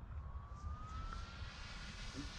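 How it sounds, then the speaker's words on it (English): An E-Flite ducted fan RC model jet flies past outdoors, giving a faint, steady whine that drifts slightly upward in pitch over low wind rumble. "Ducted fan jet."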